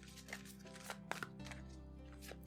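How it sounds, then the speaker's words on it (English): Romance Angels oracle cards are shuffled overhand in soft, irregular riffling bursts and taps, close and quiet, with a faint background hum and no speech. "I always like to overhand shuffle and pull the jumper cards."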